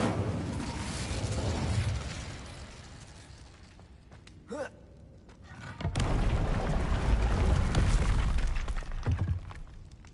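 A fire spell is cast in Hogwarts Legacy on PS5, a broad whooshing, roaring burst that fades into a quieter lull. A short crackle follows, then a second loud, sustained rush of flame and rumble.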